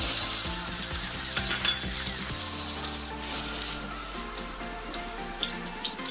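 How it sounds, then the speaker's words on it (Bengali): Carrots sizzle and fry steadily in a pan, with a few clinks of stirring near the start and a low hum running beneath; no one speaks. "গাজরগুলো একটু ভেজে নেব"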